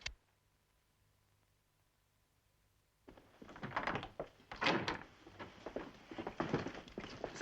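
Heavy thuds and crashes burst out after a few seconds of near silence as a door is broken in, a rapid irregular run of loud blows and splintering impacts close by.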